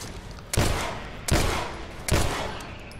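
Three loud gunshots from The Last of Us: Left Behind, evenly spaced about three-quarters of a second apart, each a sharp crack followed by a long, decaying echo.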